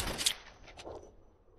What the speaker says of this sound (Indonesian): Gara-gara tembakan tadi, Tyler tidak bisa bangkit lagi